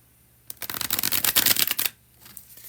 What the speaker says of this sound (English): That was the bridge shuffle.